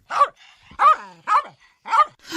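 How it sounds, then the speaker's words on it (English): A dog barks four times in a steady rhythm, each bark loud, close and sharp, with brief quiet gaps between them and no one talking. "Lucky started barking"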